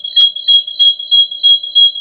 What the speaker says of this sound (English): It sounds like a fire alarm.